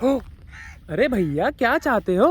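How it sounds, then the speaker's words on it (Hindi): A crow caws repeatedly and harshly at close range in a farm field of dhaincha green-manure crop, several loud calls mixed with someone talking over them. "ये देखना, ये कौवा मेरे पीछे पड़ गया भैया।"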